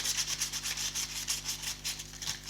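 Sandpaper rubs back and forth inside a tissue box ukulele body, a quick rhythmic rasping of roughly a dozen even strokes, close and fairly loud, no speech.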